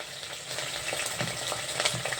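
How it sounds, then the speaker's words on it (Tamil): Round red chillies and spices sauté in a pan for a rasam tempering, producing a close, steady sizzle and crackle with light stirring scrapes. "குண்டு மிளகா போட்டு லேசாக வதக்கிக்கிறேன்"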